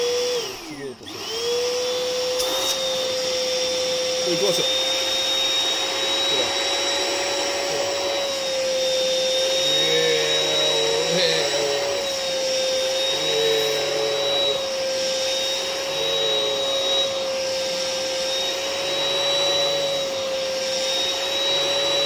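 An Iris Ohyama rinser carpet cleaner runs steadily with a loud, constant high whine and airy suction roar, its pitch wavering a little as it moves, while a voice speaks briefly at the start.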